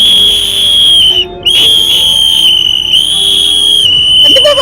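Loud, shrill sustained whistling by a cricket fan at a CSK vs RCB match, one long piercing tone broken by two short gaps, with a faint voice underneath.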